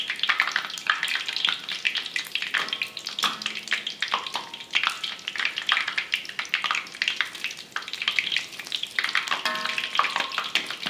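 Oil sizzles and crackles steadily as donuts deep-fry, a continuous bubbling hiss with occasional faint clinks.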